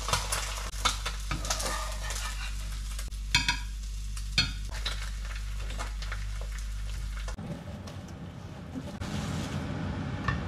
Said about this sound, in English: I'm just cooking for us breakfast. And yeah, we got eggs and some bacon.